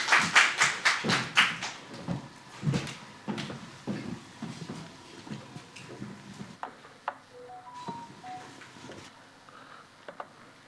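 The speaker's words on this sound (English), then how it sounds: "Yes, you can clap." Press conference attendees give a short round of scattered individual claps. The claps are sharp at first, then thin out and fade into quiet room sounds with faint voices.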